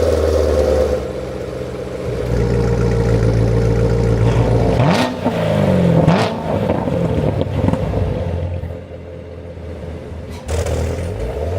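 A 2014-19 C7 sports car with stock exhaust revs up and down loudly, rising and falling in pitch, with wind rushing past the microphone throughout.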